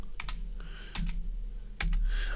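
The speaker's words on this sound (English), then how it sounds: "I can't type this morning." A few quick keystrokes on a computer keyboard, faint, in short clustered bursts with pauses between.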